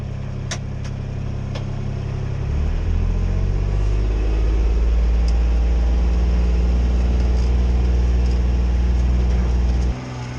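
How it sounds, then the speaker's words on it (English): A vehicle in four-wheel drive climbing a steep hill: a loud, steady low engine drone that deepens and strengthens as the climb begins, holding under load before easing off at the end. "Here is the scary hill. I'll put it in four-wheel drive."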